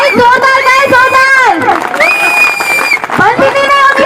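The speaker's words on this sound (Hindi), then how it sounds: "जोरदार तालियां बजनी चाहिए।" Loud crowd noise at a company programme led by the Phyto Atomy CEO, with shouting and cheering voices, shrill whistle-like tones and scattered clapping, rising and falling over a few seconds.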